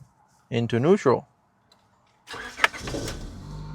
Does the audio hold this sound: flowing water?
no